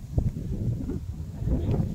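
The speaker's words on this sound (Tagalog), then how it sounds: "Lakas ng hangin ito." Strong wind buffets the microphone outdoors during a search along floodwaters, a low, gusty rumble in uneven bursts with no speech.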